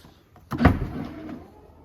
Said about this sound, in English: Fully electric tailgate